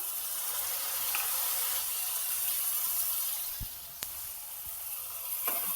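Chopped onion and tomato sizzle in hot oil as a steady, quiet hiss, with a few sharp clicks and taps of a utensil toward the end.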